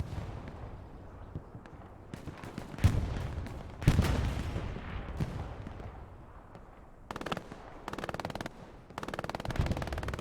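Strafing run gunfire in a team video game, sharp bursts and heavy impacts early, then rapid automatic fire in dense stretches later, loud and close.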